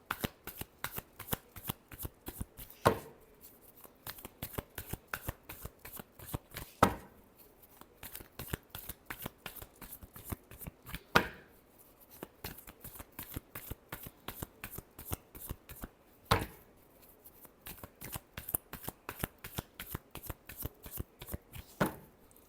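A deck of cards shuffled steadily by hand at a tarot-style reading, heard as rapid, dense riffling clicks with periodic louder slaps and taps. The sound is close and fairly quiet, with no talk.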